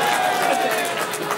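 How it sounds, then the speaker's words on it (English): A comedy club audience, with guys clapping, gives a short burst of dense applause and crowd noise, fairly loud and continuous, mixed with some voices. "All the guys are clapping"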